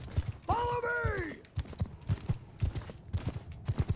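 Horse hooves gallop in quick, rhythmic clip-clop beats during a battle in the video game Mount & Blade 2 Bannerlord. A brief voice cuts in partway through.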